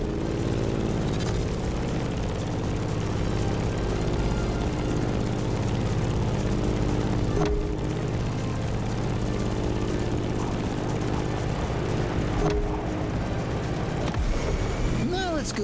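A propeller plane in the racing game The Crew Motorfest drones loudly and steadily at close range, its engine hum holding an unbroken pitch for the whole stretch.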